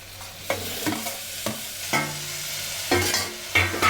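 Potatoes, tomatoes and barbati beans are stirred in a pressure cooker for a curry, with a spoon scraping in several short, separate strokes over a low sizzle, close and fairly loud.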